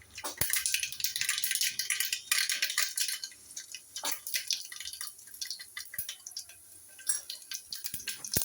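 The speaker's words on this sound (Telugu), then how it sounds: "ఆయిల్ హీట్ అయిందండి, మస్టర్డ్ సీడ్స్ వేస్తున్నాను." Mustard seeds and cumin hit hot oil in a pan, setting off a dense, loud crackle of popping and spitting that runs continuously and close by, with no talk.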